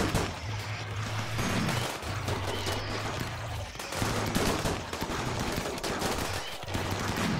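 Rapid bursts of gunfire in RimWorld roll on in a steady, mid-distance barrage, with brief pauses between volleys.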